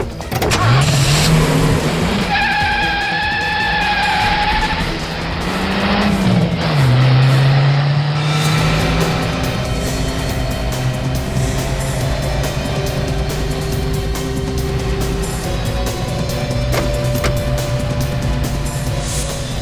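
A car pulls away and drives off, its engine revving and rising in pitch through gear changes before settling into a steady, continuous drone. The engine is loud and close, with no clear speech.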